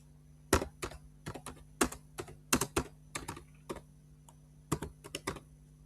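Close, crisp clicking of a computer keyboard as tasks are typed, in quick irregular bursts with short pauses, over a faint steady hum.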